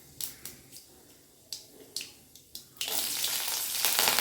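Sharp crackles and pops of tempering spices, dried and green chillies and curry leaves hitting hot oil, a few scattered bursts, then a loud continuous sizzle of frying close up.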